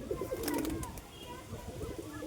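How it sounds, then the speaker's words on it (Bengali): Pigeons at a loft in Dankuni give a few low, rounded coos, one early and another near the end, with quieter rustling in between. "খুবই সুন্দর পায়রা।"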